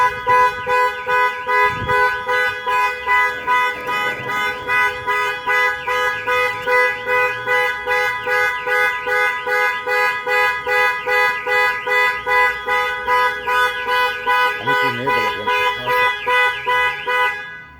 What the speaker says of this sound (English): As you can see, the vehicle alarm is on.